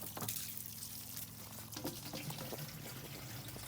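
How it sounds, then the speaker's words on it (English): Water running from a garden hose into a shower tub in a campervan, a faint, steady gushing and splashing with no talk. "Whilst with the hose on, we'll fill up our shower tub and all."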